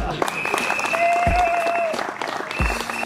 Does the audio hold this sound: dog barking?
no